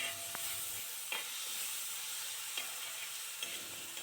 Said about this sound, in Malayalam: ഇനി നമുക്കിതിലേക്ക് ഒരു 3 തക്കാളി ചെറുതായി അരിഞ്ഞത് ചേർത്ത് കൊടുക്കാം.